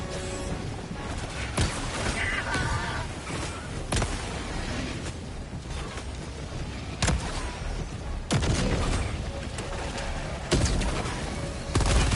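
Grenade and weapon blasts in Helldivers 2 combat, a series of loud booming bursts spaced several seconds apart over dense rumbling battle noise.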